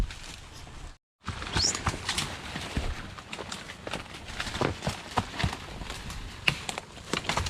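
Horse hooves clip-clop steadily on the ground in an irregular walking rhythm, fairly close, after a brief moment of silence at the start.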